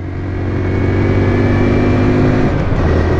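Honda Dax motorcycle engine, loud and close, holding a steady buzzing drone with small rises and dips in pitch as it revs through gear shifts on a road.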